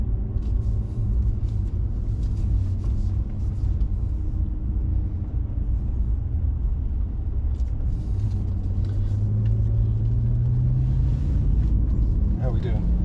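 A 2016 BMW M5 F10 on a race track, its engine a steady deep rumble from inside the cabin that rises in pitch as it accelerates, with occupants talking over it.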